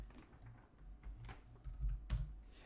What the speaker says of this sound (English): So we'll go ahead and type in 1000 here.